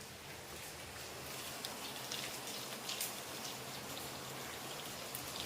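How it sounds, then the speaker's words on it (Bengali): Heavy rain pours steadily outdoors, a dense even wash of falling water with scattered drops pattering on nearby surfaces, with no voices. "যাই বাবা, বৃষ্টিতে ভিজে লাভ নেই।"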